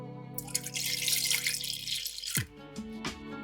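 Water runs and splashes briefly into a metal pan holding evaporated milk, then cuts off with a dripping, hollow ring and a small clink.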